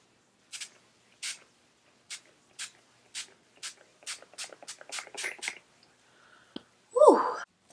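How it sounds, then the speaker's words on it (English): A run of about eleven short, hissing bursts of makeup setting spray onto a face close by, spaced evenly and quickening toward the end, followed by a sharp exhale. "This is a makeup setting spray. So I'm gonna spray this all in my face."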